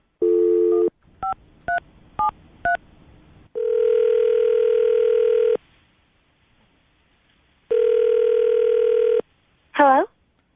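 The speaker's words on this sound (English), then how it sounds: "We're going to call her right now, see if we can get her on the phone" A telephone call is placed during a radio show: a dial tone, four quick touch-tone beeps, then two long ringback tones separated by silence, with a brief voice answering at the end.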